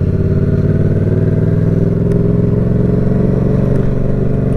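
A motorcycle engine revs steadily as the throttle is opened in a low gear with the clutch engaged, a loud continuous mid-pitched drone with a light mechanical clatter filling the whole stretch.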